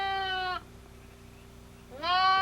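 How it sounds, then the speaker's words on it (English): A mother sheep gives two loud, wavering bleats close by outdoors, separated by a short quiet gap. "Mama sheep, she think, ah, this is my lamb."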